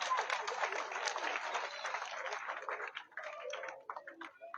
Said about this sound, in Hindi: एक बार जोरदार तालियों से भाई का स्वागत करेंगे।